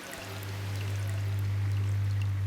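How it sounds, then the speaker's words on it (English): An aquarium filter heard through a hydrophone underwater: a steady low hum with bubbling, watery trickling on top, close and muffled, holding constant. "That's the sound of the filter working."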